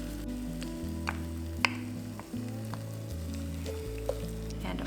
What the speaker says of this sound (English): Add in our tomato sauce. Let's add in our tomato paste now.